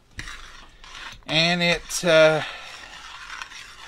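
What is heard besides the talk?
stirring boiling squash relish in a pot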